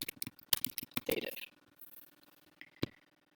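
Keyboard typing during a German reflexive pronoun exercise, a quick run of close, light clicks and taps, then a pause and one last isolated click.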